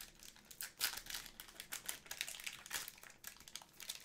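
A foil trading card pack, basketball cards, being torn open up close, with quiet crinkling and sharp tearing rustles in irregular bursts, faint overall and without talk.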